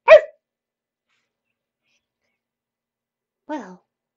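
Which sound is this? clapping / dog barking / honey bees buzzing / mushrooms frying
dog barking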